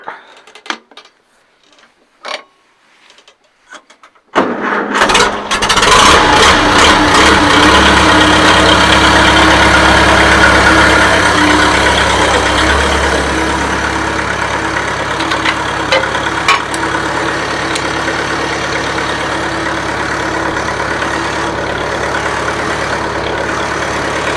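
An IH Farmall Super C tractor engine is silent at first, then cranks and catches into a loud, steady idle that runs close by for the rest of the stretch, with faint clinks at the start.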